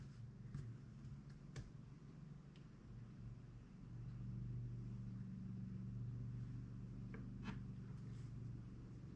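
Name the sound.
tractor driving outside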